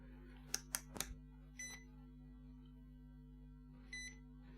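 A multimeter gives short electronic continuity-test beeps while a connection to an LED's ground is checked, with a quick cluster of chirps, a lone beep and a later one, faint over a steady low electrical hum.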